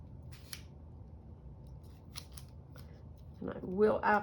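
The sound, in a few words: scissors cutting paper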